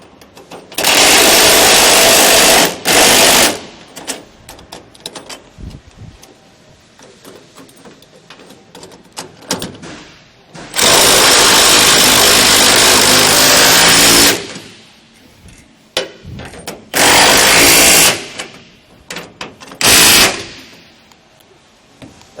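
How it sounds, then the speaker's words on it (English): A 3/4-inch impact wrench tightens bolts on a tilt-trailer ramp package in several loud, close bursts of rattling hammering, each lasting about two to four seconds, separated by quieter pauses with handling noise. "we'll take our 3/4 on our impact and we'll tighten these up"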